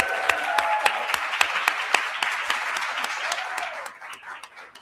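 A conference audience claps for a speaker, dense steady applause with sharp individual claps standing out, tapering off toward the end.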